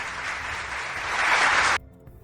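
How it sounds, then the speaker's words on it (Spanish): A canned applause effect played on a livestream, a dense, even wash of clapping that swells slightly, then cuts off abruptly into near silence. "Déjame regalarte un aplauso ahí contra Revolucionarios."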